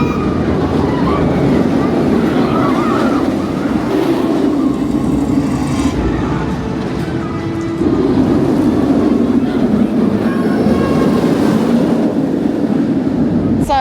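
The Nemesis Reborn roller coaster at Alton Towers roars steadily with loud wind and track rumble throughout, with no break in the noise.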